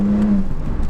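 A BMW Z4 30i sDrive changing gear in Sport Plus mode: a steady engine tone drops away in a quick, smooth shift, brief and loud from close by.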